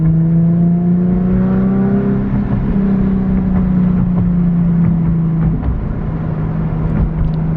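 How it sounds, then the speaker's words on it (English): Infiniti G37 coupe with a six-speed manual, exhaust droning while driving, a loud, close in-car hum whose pitch climbs steadily then eases off as the car shifts and cruises. "but the exhaust doesn't sound too bad."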